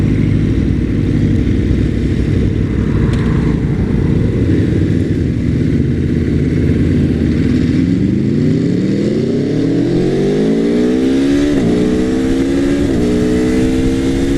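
An Aprilia Tuono Factory motorcycle accelerates hard, its loud engine note climbing steadily in pitch, with quick upshifts near the end and no talk over it.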